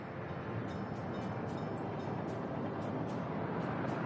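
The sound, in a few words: locomotive running in Workers & Resources: Soviet Republic, video game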